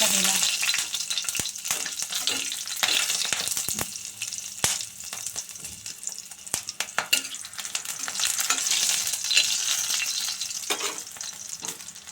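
Nigella seeds tempering in hot oil give a loud, continuous crackling sizzle close by, with scattered sharp pops and a few faint clinks.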